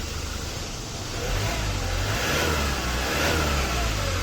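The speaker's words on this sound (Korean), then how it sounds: "제가 악셀 한번 밟아볼게요." Euro 6 diesel engine of a 2017 Hyundai Porter 2 wing-body truck with 570,000 km revs up as the accelerator is pressed, a smooth close rising hum with no speech.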